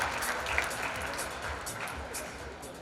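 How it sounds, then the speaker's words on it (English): Faint, steady applause from a seated audience of entrepreneurs for a minister, a soft even patter of many hands heard from a distance throughout. "give a big round of applause to Santhosh sir"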